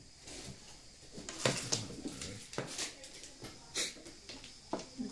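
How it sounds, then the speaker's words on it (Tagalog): A pigeon or dove coos in low, soft phrases at the start and end, mixed with sharp clacks from mahjong tiles in an indoor game. "Ibon."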